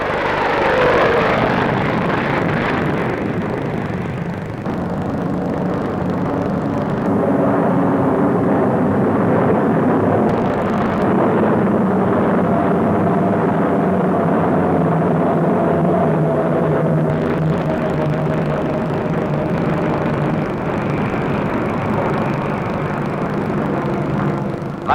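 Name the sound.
Avro Vulcan delta-wing bomber flying at Farnborough air show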